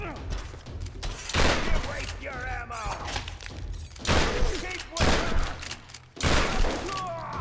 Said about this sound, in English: this shotgun is legit